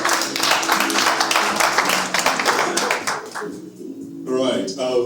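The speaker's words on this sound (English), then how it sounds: "Round of applause." A book launch audience claps in a round of applause: dense, fairly close patter over the first few seconds that fades out, and brief talk returns at the end.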